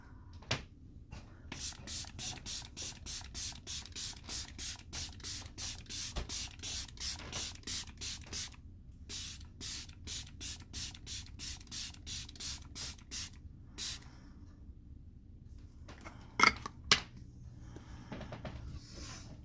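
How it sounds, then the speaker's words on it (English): A rapid series of short, sharp bursts of LYS Natural Finish makeup setting spray hisses close up, two long runs of quick pumps with a brief pause between, then a few faint clicks. "I'm going to use the LYS Natural Finish Skin Loyalty Setting Spray."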